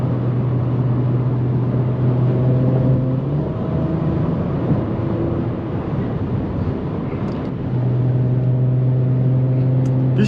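A 2019 Audi RS5 engine pulls hard under acceleration, giving a loud, steady droning roar with rising tones that dips briefly and then climbs again, heard from inside the car.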